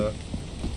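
Steady rain in the video game Lethal Company, a dense, even hiss over a low rumbling bed, lasting under a second at moderate level.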